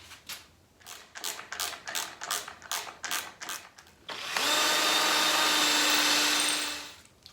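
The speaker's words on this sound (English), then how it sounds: "when I drill the next holes" A power drill with a 1/8 inch bit drills holes in wood, whirring in a series of short rhythmic pulses, then running steadily for a few seconds before winding down, close and clear.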